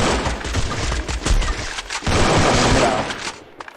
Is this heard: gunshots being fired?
yes